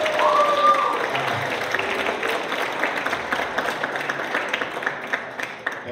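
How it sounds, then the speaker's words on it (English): A high school band concert crowd claps in steady, dense applause that starts loud and slowly thins out over several seconds, with a voice briefly heard near the start. "You can clap."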